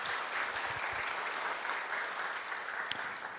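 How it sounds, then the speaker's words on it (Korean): A church congregation applauds at a Sunday morning service, a steady wash of many hands clapping at moderate volume for about three seconds, with no talking over it. "잠깐 박수로 감사를 표하겠습니다."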